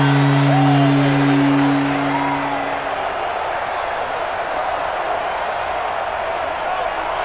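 Stadium crowd noise from the Madden NFL 20 video game during a Buccaneers vs Patriots home game, a loud continuous roar that swells briefly at the start, with an announcer's voice over the first couple of seconds.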